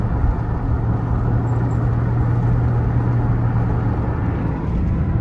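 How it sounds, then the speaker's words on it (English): Car engine with no muffler idling or running, a loud steady low exhaust rumble with a constant drone, continuous and close with no talk. "that's why the car sounds like it's got a crazy exhaust system"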